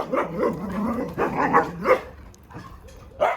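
A dog barks repeatedly beside an outdoor dog run, a series of moderately loud barks and yips in uneven bursts over a few seconds, somewhat distant with no talk over them.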